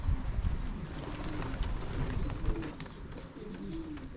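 Young racing pigeons coo softly at a middle distance, a run of low rolling calls repeating through the seconds, with light wind noise behind them and no talk.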